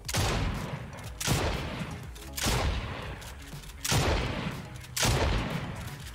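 Two pump shotguns in a video game fired rapidly while swapping weapons, five loud booming blasts at roughly one-second intervals, each with a short rumbling decay, no talking.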